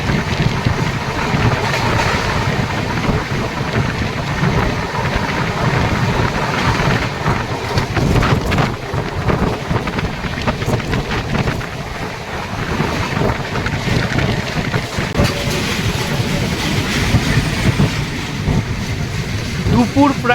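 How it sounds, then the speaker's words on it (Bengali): A Karmabhoomi Express train running at speed on the Kamakhya–Mumbai LTT route, a steady loud broadband rumble and rush of wheels and wind throughout, continuous with no breaks. "ট্রেন বেশ ভালো স্পিডে ছুটে চলেছে।"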